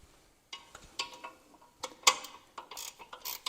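Ratchet wrench loosening transmission cooling line fittings on an old Squarebody truck, bursts of quick clicking pawl ticks separated by short pauses, close and fairly quiet.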